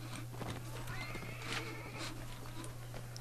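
Horse neighing in the video game Mount & Blade, a whinny over clip-clopping hooves amid battle noise, moderately close and mixed with other game sounds.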